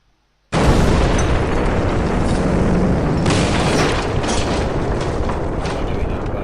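Missiles striking ships in the naval wargame Command: Modern Naval/Air Operations: a sudden loud blast bursts in after a brief silence, then a sustained roaring rumble with crackling flares keeps going to the end, with no talk over it.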